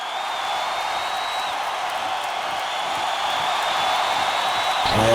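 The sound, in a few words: wrestling crowd cheering in response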